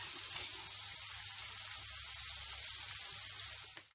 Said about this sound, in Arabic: فضلت اشوح في اللحمه شويه لغايه ما خدت لون كده معايا